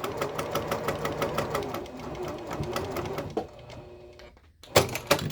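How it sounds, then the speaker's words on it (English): A sewing machine stitches a seam on a pleated fabric face mask, whirring in a fast steady rhythm up close, then pausing briefly before a few short bursts of stitching. "I will use that 1/8 of an inch seam allowance, back stitching at the beginning and end of the seam."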